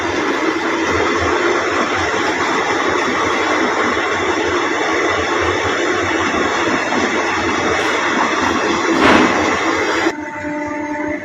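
A train rolls steadily past at close range, its carriages rumbling and clattering continuously as it runs over a man lying flat on the tracks, loud throughout before easing slightly near the end.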